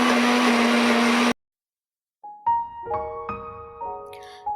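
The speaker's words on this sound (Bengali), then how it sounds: "চিকেনটা প্রথমেই ভালো করে মিক্সিতে পেস্ট করে নিলাম" A mixer grinder pastes boneless chicken for homemade chicken sausage: a loud steady motor whine that cuts off abruptly, then silence, followed by close clinks and tonal kitchen handling noises.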